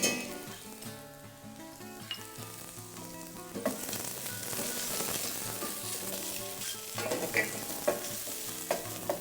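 Onions frying in a pan with garlic and ginger added, a steady close sizzle with occasional stirring scrapes, while faint music plays underneath and no one speaks.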